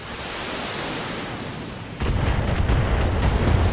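Mech weapons strike enemy turrets in the BattleTech video game, a steady rumbling roar that jumps into louder booming impacts partway through.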